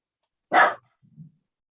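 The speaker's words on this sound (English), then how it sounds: "Polly keeps barking." A dog named Polly gives a single sharp bark, fairly close, followed by a soft low grumble, with otherwise quiet surroundings during a planning board meeting.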